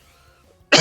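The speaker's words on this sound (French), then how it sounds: "je suis désolé pour la toux, c'est encore d'actualité" A person gives a single sharp, close cough at the very end, after a near-silent pause.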